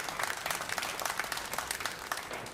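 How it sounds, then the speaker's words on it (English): A crowd applauding a shot at the 2024 Las Vegas Open pool match, dense, steady clapping from a large audience that sustains at an even level throughout. "they are clapping"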